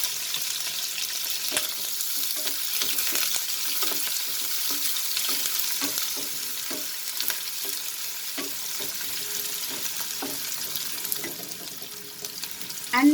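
Onion and dried red chilies hit smoking-hot mustard oil in a pan and sizzle steadily, a loud, continuous frying hiss with occasional crackles and light stirring, no talking.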